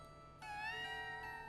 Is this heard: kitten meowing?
yes